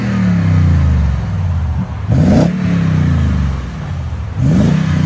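2021 Toyota Tundra 5.7L V8 with TRD Pro dual exhaust and 5-inch tips revving: a deep idle burble broken by two quick rising throttle blips, loud and close, with no talk.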